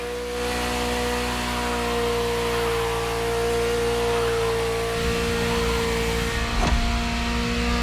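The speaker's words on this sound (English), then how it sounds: "the fastest Ferrari ever created" A Ferrari sports car engine in the racing game The Crew Motorfest drones at a steady, loud pitch, then shifts lower partway through, with a brief thump near the end.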